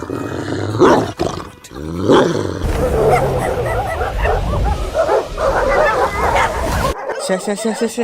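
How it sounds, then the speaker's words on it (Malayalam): A Doberman in a film scene barks and growls loudly and close, with short harsh bursts mixed under overlapping voices. "കടിക്കല്ലേ പട്ടി, കടിക്കല്ലേ"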